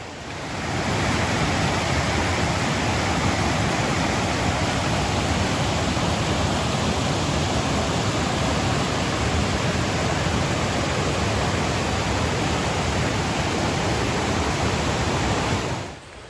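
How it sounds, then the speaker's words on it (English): Small creek flowing beside a dirt path near 20 Mile Trail in the Great Smoky Mountains, a steady, close rush of water that holds even and unbroken for the whole stretch. "Pretty little creek though."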